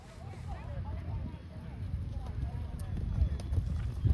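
Horse hooves clip-clop faintly and steadily during a show jumping round at an eventing competition, a continuous soft trotting rhythm under outdoor background noise.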